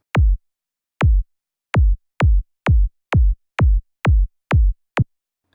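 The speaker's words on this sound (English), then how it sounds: "I am using a quite full sounding kick for this track" Full-bodied electronic trance kick drum hitting ten times, with the hits coming faster after the first few; each is punchy and booming with a fast-falling pitch and a short decay, dry and alone.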